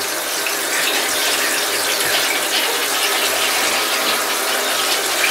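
Steady rushing water pours continuously from a tap into a bath, a broad hiss filling the room without pause, close and fairly loud.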